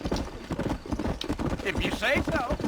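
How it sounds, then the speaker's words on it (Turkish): Rhythmic clip-clop of galloping hooves in Red Dead Redemption with a horse whinnying near the end, over background game music and effects; a person talks throughout. "Atı sür."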